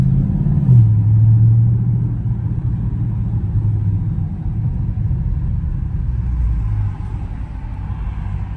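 Loud Dodge Charger Scat Pack heard from inside on a drive: a deep, close engine rumble drops in pitch early on, as in a downshift, then settles into a steady, throaty drone with a faint rise near the end.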